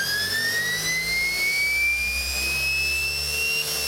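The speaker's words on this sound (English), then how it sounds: "Spin that flywheel right up" A flywheel driven by a 72-volt electric motor spins up with a steady high whine that rises smoothly in pitch, alone and close.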